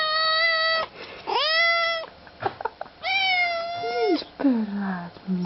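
A cat meows loudly and insistently in repeated long, drawn-out cries, greeting its owner after two weeks apart, with brief gaps and a person talking between the calls.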